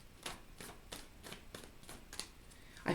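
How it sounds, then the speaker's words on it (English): Tarot cards are riffled in quick repeated bursts, about eight crisp shuffles in steady rhythm, close and clear with no talking. "let's do 2 more shuffles"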